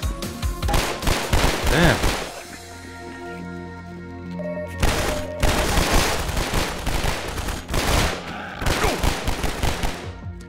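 Rapid automatic gunfire rattles in dense bursts during a Lambda Wars battle, three loud volleys separated by brief lulls, with a single short spoken word.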